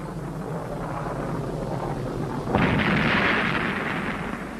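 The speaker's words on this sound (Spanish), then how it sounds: "Este es el momento en que se produce la explosión." A deep rumbling explosion of a Soviet rocket, recorded on film, bursts in midway, swelling into a loud, broad roar over a steady low background rumble.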